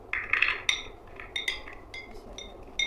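Onions, garlic, tomatoes and taro go into a metal pressure cooker for an arvi curry, giving a series of bright clinks and knocks against the pot at an irregular pace, close by and fairly quiet.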